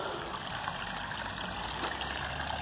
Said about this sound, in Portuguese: Esse vazamento de água aqui, ó, tá correndo uma grande quantidade de água